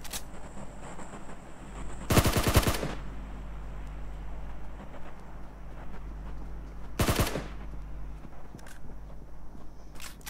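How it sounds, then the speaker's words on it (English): Gunfire in a shooting video game: two short, loud bursts of rapid automatic shots several seconds apart over a low, steady in-game background hum. "How many times do I have to shoot someone in this game?"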